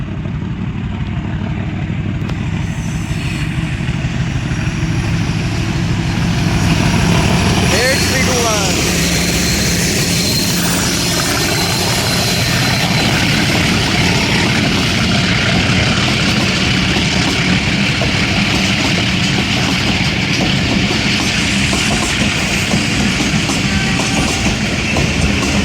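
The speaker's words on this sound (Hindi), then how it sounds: "तो नॉचअप कर दिया जी ड्राइवर साहब ने। वन अप खैबर मेल 5 घंटा 15 मिनट डिले के साथ।" A Khyber Mail passenger train passes close by with loud, steady roar and rail clatter as its locomotive notches up, the noise sustained throughout while someone talks over it.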